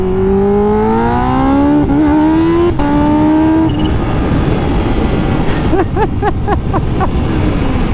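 A Kawasaki H2 fitted with a Vandemon titanium exhaust accelerates at partial throttle, its engine note rising in pitch through several gear changes, then blipping in quick bursts amid loud wind rush.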